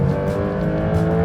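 A 2026 Porsche 911 Turbo S accelerates flat out, its engine note a loud, steady, rising drone heard from inside the cabin with no talking.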